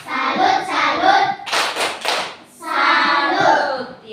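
Classroom children performing a rhythmic tepuk salut clapping routine, chanting together between bursts of quick, close hand claps.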